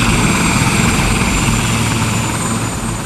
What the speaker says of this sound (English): They also saw helicopters coming and going.